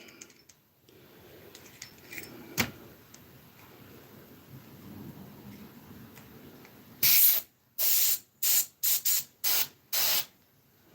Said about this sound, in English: I don't know what's going on with my airbrush, but something's not going right with it.